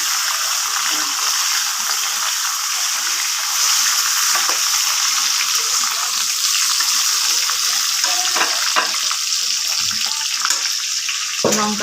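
Chopped tomatoes frying in a pan for a mung dal cooked with fish head, giving a steady, close hiss of sizzling that runs without a break, with a few soft clinks and stirring sounds.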